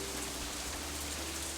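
Steady rain in the visual novel Katawa Shoujo, a soft even hiss of falling drops with a low constant hum beneath, heard alone without any voices.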